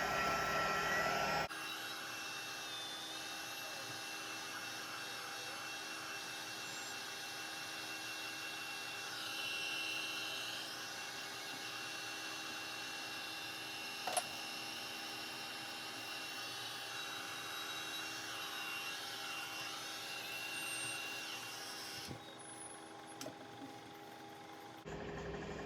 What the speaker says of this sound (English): We're gonna hit it with the heat gun and let's get it to swirling.